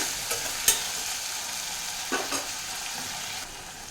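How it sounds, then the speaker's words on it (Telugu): Eggplant curry with split green chillies and curry leaves being stirred in a pan, a steady soft sizzle with a few scraping strokes of the spoon, close by and alone without talk. "అలాగే 2 పచ్చిమిరపకాయలు స్ప్లిట్ చేసి పెట్టుకున్నాను. అది వేస్తాను. కొద్దిగా కరివేపాకు కూడా వేసుకుంటున్నాను. మిక్స్ చేద్దామండి."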